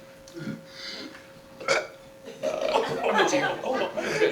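A short burp breaks out briefly mid-clip, followed by a person talking.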